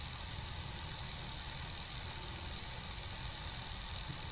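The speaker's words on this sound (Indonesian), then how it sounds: "ini motornya udah agak pelan karena ini sebenarnya tanjakan ekstrim nih" A Honda motorcycle engine labours up a steep mountain road climb with a dense, steady drone and broadband rumble, and wind-like noise running constantly throughout.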